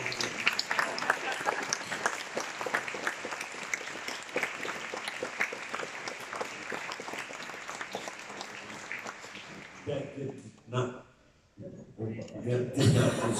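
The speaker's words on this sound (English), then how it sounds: "That did not deserve applause." An audience at Comic-con Prague breaks into sustained, lively applause that fills the room for about ten seconds, then fades as a voice speaks over the last moments.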